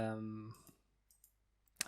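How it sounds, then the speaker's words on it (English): Brief, sharp clicks of an escape key pressed on a computer keyboard while working in Revit design software, following a short burst of a man's speech, with one click mid-clip and a louder one near the end. "hit escape on the keyboard"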